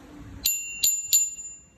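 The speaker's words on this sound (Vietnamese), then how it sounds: "Chuông" Three bright metallic dings from the bell on a Panasonic bicycle, struck in a quick uneven sequence close to the microphone, each ringing briefly over quiet background.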